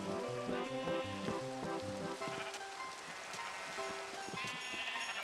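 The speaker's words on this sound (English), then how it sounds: "Oh, it's raining." Steady rain hisses through a Minecraft world on the Wii U, a continuous wash of patter under game music and bleating animal calls.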